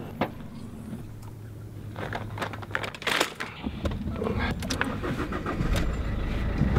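A rental car on Tenerife starts up: a few clicks and rattles give way to the engine catching and settling into a low, steady idle, recorded close in a quiet setting.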